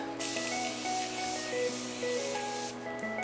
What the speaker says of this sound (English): we're gonna take a little intermission and put some Morphe setting spray